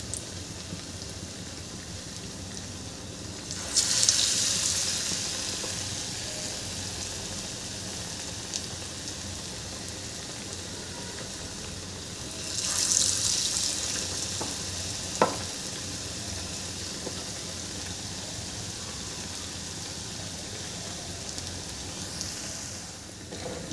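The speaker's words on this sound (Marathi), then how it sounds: "असं यामध्ये आणि तेलामध्ये सोडून द्यायचं आहे। मी छान असे तळून घेते।" Pakoras deep-frying in hot oil, a continuous bubbling sizzle with two louder surges a few seconds apart and an occasional utensil tap, nearby and unvoiced.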